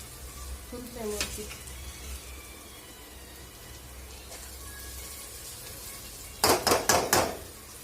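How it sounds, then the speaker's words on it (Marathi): Spice masala for Kolhapuri misal is sautéed in a pan, giving a soft, steady sizzle with occasional utensil scrapes, then a quick burst of loud metallic taps near the end. "त्याचा सुगंध छान येतो थोडं परतून घेऊया"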